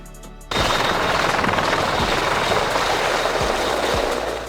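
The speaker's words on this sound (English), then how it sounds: "Search and rescue helicopter." Search and rescue helicopter, starting abruptly and holding a loud, steady rotor chop and turbine roar close by, with a few deeper thumps under the continuous noise.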